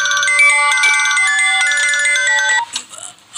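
A mobile phone ringtone sounding for an incoming call at midnight, a loud bright electronic melody playing continuously before stopping abruptly.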